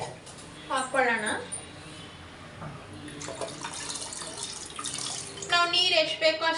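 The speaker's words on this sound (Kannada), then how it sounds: "ನಾವು ನೀರು ಎಷ್ಟು ಬೇಕೋ ಅಷ್ಟು ಹಾಕೊಬೋದು." Water pours into ground peanut and coconut chutney inside a mixer jar, a soft running splash under someone talking nearby.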